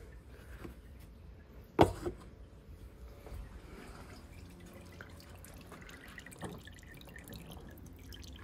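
Engine oil draining from a 2019 Volvo V40 T2 petrol into a pan, heard as soft dripping and trickling liquid with one louder splash or knock early on, fairly quiet and alone.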